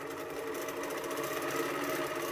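A sewing machine runs continuously while stitching matchstick quilting, a fast, even mechanical whir close by with no talking.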